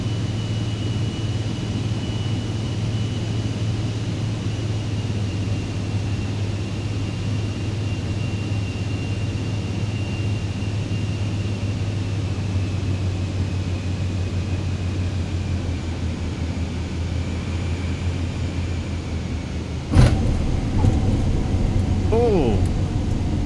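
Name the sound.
airplane landing in video game Microsoft Flight Simulator 2020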